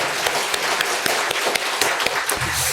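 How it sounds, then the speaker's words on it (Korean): A church congregation applauding steadily in welcome, many hands clapping at once in a dense, continuous patter that carries on throughout. "박수로 한번 환영하겠습니다."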